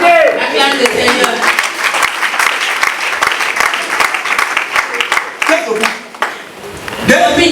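A church congregation breaks into loud, sustained applause to acclaim the Lord, dense clapping filling the room with voices rising over it and fading briefly before swelling again.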